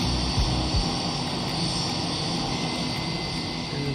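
A steady jet engine drone of an Airbus Beluga in a flight simulator, a constant broadband roar with a faint high whine, even and continuous with no talking.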